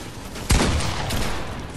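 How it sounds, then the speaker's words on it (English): A single sharp shotgun blast goes off in the Fortnite video game, a loud sudden report with a decaying tail over a steady background bed. "this guy's got good shotgun"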